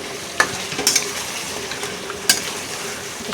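Mutton is stir-fried in a pot for a slow-cooked kosha, giving a close, continuous sizzle broken by a few sharp metal scrapes and clinks of the spoon against the pot.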